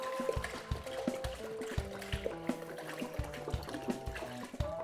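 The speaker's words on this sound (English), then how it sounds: "open up your apple cider jug or juice your apples and just pour that whole thing into your pot" Apple cider poured from a jug into a cooking pot, a steady liquid stream with gurgling, glugging tones running continuously throughout.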